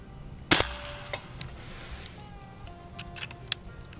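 A Beeman underlever .177 PCP air rifle fires a single sharp shot at a can outdoors, followed by faint ticks and quiet ambient sounds.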